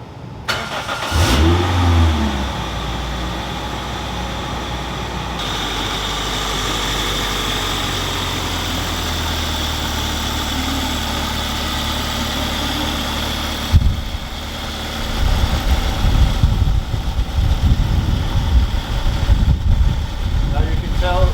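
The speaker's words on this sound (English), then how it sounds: "So let's start the engine." A Toyota MR2 Spyder with a swapped-in 2ZZ engine cranks, fires up and settles into a steady, close idle, with a rougher, louder stretch of engine noise near the end.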